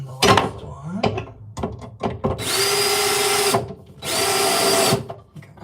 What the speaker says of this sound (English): I hope I'm not too noisy with the drill.